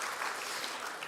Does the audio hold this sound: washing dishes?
no